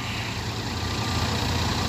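A John Deere tractor idles nearby at a heavy-machinery training course, a loud, steady low rumble that holds constant throughout with no voices.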